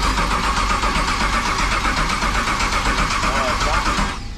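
A custom El Chromino car build's engine runs steadily and loud for about four seconds, a dense continuous mechanical drone that cuts off near the end, with a voice heard over it.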